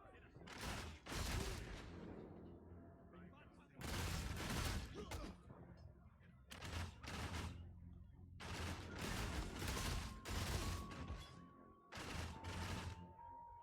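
Bursts of rapid gunfire from the video game Stream Raiders, with dense crackling volleys coming in repeated barrages separated by short gaps, loud and close, over a faint steady tone.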